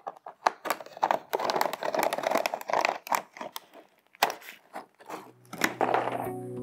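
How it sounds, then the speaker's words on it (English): A Stanley knife scores and slices through an underfloor heating panel of an egg crate system in a run of crisp, crackling cuts and scrapes, close by, followed by a short tonal hum near the end. "flip the panel over, and then simply cut through from the back with a simple Stanley knife"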